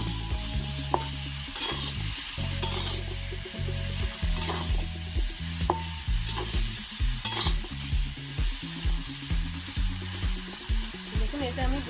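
Bottle gourd is stirred in a pan with salt and turmeric, giving steady scraping and clinking of the spoon over a soft sizzle. The strokes repeat in a close, fairly loud rhythm with no voices.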